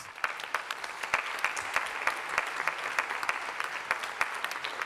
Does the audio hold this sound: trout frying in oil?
no